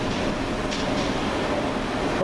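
A train coming into a station near Birmingham, its low steady rumble and rolling noise holding even and close through the short stretch, with no voices.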